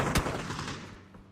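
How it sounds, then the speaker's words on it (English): Burst of video-game gunfire in PUBG during a tournament match, a sharp loud shot up front followed by a dense volley of rapid crackling shots that thins and fades toward the end. "And there's some shots coming forward one way and the other."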